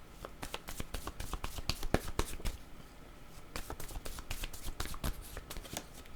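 Word cards are shuffled and drawn by hand: a string of crisp, close snaps and flicks in uneven bursts, with no talk.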